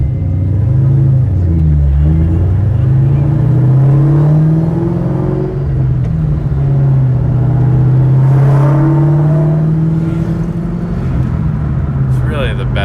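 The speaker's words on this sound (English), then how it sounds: "I love the way this car sounds." Exhaust note of a 2003 Mustang SVT Cobra fitted with a Borla S-type system, engine running with a deep, steady rumble and gentle rises in pitch, heard close under someone talking.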